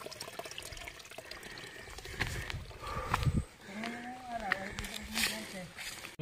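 Clear mountain spring water at Karakawa Falls in Nasugbu, Batangas flows in a soft, continuous wash beneath people talking nearby.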